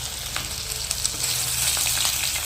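Grated ginger frying in a pan with kohlrabi and shrimp crackles in a close, continuous sizzle, broken by a few light clicks and stirring scrapes.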